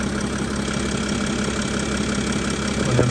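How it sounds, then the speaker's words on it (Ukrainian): Mercedes-Benz Sprinter van engine idling, a loud, steady mid-pitched hum with a slight knocking texture, close and continuous without talk. "Моторчик робить добре, питань нема."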